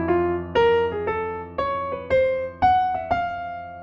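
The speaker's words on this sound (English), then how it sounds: "I'm going to approach each of those chord tones chromatically, 1 above, 1 below, target note." Jazz piano playing single notes that approach chord tones chromatically from above and below before landing on the target, about eight clear struck notes in a steady line, close and moderate, with no one talking.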